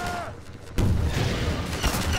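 In the video game Half-Life 2, a rocket launcher fires with a sudden loud, booming blast, followed by a sustained rumbling roar of explosions and gunfire.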